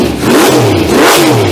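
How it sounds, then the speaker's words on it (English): A 394 stroker engine, freshly built and running without a flywheel, revs hard and fast toward 6000 rpm, its rising and falling pitch sweeping up twice in a loud, close, continuous roar with no talking. "she's hitting 6 grand pretty quick"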